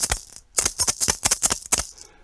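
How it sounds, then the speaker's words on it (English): A dried gourd is shaken in a quick run of crisp rattling strokes: one short shake, a brief pause, then about eight rapid rhythmic shakes, close and clear. "when the gourds dry, they sound like this."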